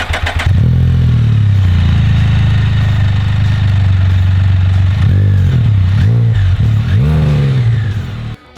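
A 2018 Can-Am Spyder F3-S with a Rotax 1330 ACE engine and Akrapovic Sinister exhaust holds a loud, steady drone close by, then gives several sharp throttle blips near the end. No one speaks.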